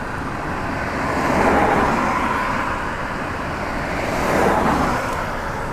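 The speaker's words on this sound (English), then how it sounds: "don't you just love rush hour traffic?" Rush hour road traffic with cars passing, a continuous broad roar that swells twice as vehicles go by, loud and close, with no talking.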